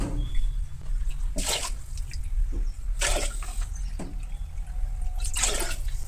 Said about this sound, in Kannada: ಇದೇ ಕಪ್ಪಲ್ಲಿ 3 ಕಪ್ಪಷ್ಟು ನಾನು ನೀರು ಹಾಕೋತಾ ಇದ್ದೀನಿ.